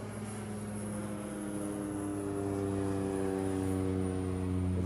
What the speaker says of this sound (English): This is our third, I believe it's the third Dreamliner,